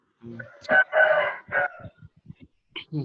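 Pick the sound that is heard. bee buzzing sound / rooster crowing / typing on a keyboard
rooster crowing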